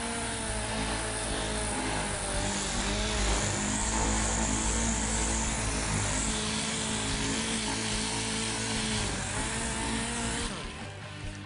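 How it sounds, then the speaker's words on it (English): DA sander with 180 grit paper working over body filler and spot putty, a loud continuous whirring drone with a dense steady hiss, easing off near the end. "Once we've applied the spot putty, we're ready to use a 180 grit with a DA."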